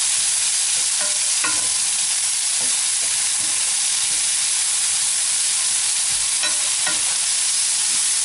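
Amba-spiced courgettes frying in a pan, with a steady loud sizzle and hiss throughout and scattered scraping knocks as they are stirred, no voices.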